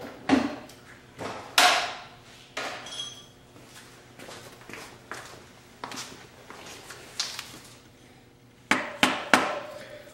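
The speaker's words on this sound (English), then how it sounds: "lightly tap the long nut back through" A hammer lightly tapping the long front axle bolt out of a Yamaha YZ250F motocross wheel, with a dozen or so sharp metallic knocks at uneven intervals, close and clear with quiet gaps between.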